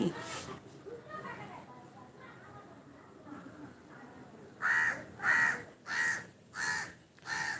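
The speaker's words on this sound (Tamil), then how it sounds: "என்ன காக்கா கத்துது" A crow caws loudly five times in a steady rhythm near the end, following quieter chatter and background sounds in a home setting with a pet cat.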